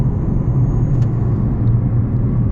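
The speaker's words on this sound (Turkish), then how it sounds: "Bastım tam gaz yaptım." A 2023 Toyota C-HR 1.8 hybrid accelerates at full throttle, a steady loud engine and road rumble heard from inside the car, droning evenly throughout without speech.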